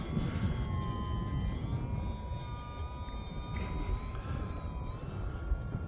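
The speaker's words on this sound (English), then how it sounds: "This airplane is designed to do hovering and Harriers and all that kind of stuff" A small E-flite UMX Timber X RC airplane flies over snow, its electric motor giving a steady, thin whine that shifts slightly in pitch throughout, over constant wind rumble with no talking.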